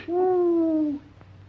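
A single long, smooth hoot held for about a second, a voice imitating an owl, clear and close.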